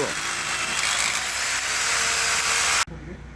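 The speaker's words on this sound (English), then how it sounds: "He's drilling quarter-inch holes." A power drill whines loudly and continuously as it bores quarter-inch holes into a sunken concrete patio slab, then stops abruptly, leaving quieter background noise.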